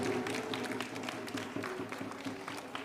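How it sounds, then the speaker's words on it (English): Applause from a wedding crowd at a Hindu ceremony welcoming the groom, steady moderate clapping throughout with a faint background hum. "A big round of applause,"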